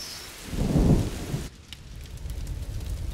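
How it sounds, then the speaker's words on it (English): Rain and thunder in the video game A Plague Tale: Innocence: a loud rolling thunder rumble early, then a steady, fainter wash of falling rain, no voices. "would you mind if we get out of the rain, please?"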